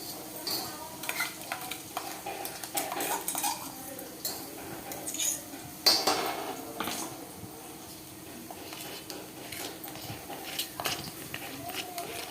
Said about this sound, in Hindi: इसके बाद अब मैं इसमें जो भी हमने अदरक, लहसुन और हरी मिर्च का पेस्ट बनाया था, मिक्सी में पीसा था, वो मैं उसमें सब डाल रही हूँ